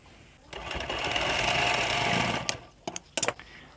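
A sewing machine runs a steady two-second burst of tacking stitches on blouse fabric, then gives a few short clicks and taps as the stitching stops.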